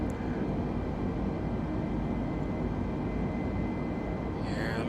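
An A320neo airliner decelerating in Microsoft Flight Simulator, a steady broad engine and airflow roar at moderate level with no clear change over several seconds.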